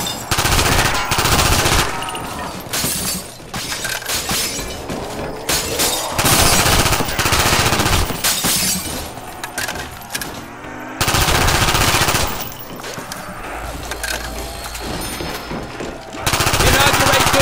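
Rapid automatic gunfire from a zombies video game map, loud, dense bursts that run almost continuously with only short dips in intensity.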